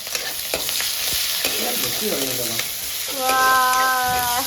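Onions frying in hot mustard oil with tomato in a home kitchen: constant crackling sizzle punctuated by stirring scrapes, with a brief tonal whine rising over the frying toward the end.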